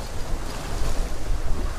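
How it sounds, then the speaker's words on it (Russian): Half-metre waves slosh against a small fishing boat on a lake in stormy weather, a continuous churning wash mixed with heavy wind buffeting the microphone. "А такая волна, блядь, почти полметра."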